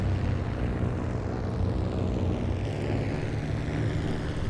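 An airplane flies in a video game, its propeller engine a steady, full droning roar sustained from start to finish with no talk.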